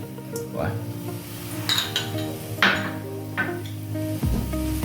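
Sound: stirring jaggery into coconut in a pan

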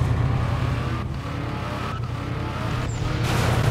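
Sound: car driving in Roblox video game

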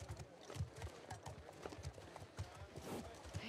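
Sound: horse hooves clip-clopping, video game The Last of Us Part 2

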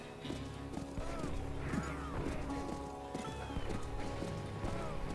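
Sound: horse hooves and neighing in the video game Call of Juarez

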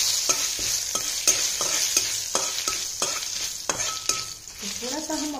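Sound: dry roasting dried red chillies and bay leaves in a pan

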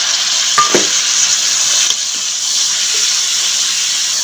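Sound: onion paste frying with garlic paste

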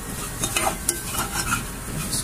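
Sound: roasting dalia with egg in oil

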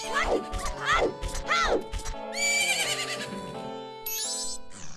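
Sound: horse neighing in the video game Majora's Mask

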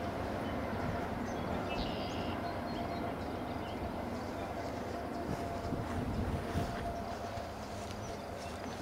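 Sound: CSX freight train passing

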